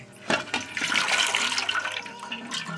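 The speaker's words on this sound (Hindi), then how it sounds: "अब गैस को ऑफ कर देंगे और ये पानी हटा देंगे।" Hot water from boiled noodles pours out of a cooking pot in a steady, loud rushing gush, close by and continuous for a few seconds.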